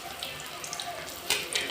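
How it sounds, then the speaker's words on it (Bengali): Pieces of chicken, salted and marinated in vinegar, fry in a pan for chilli chicken, giving a soft continuous sizzle at close range with a few brighter crackles near the end. "এখানে আমার অর্ধেক চিকেন ভাজা হয়ে গেছে"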